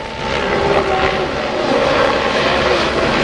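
A loud helicopter drones steadily and close at an airshow, filling the whole stretch with a broad rumbling roar and no talking.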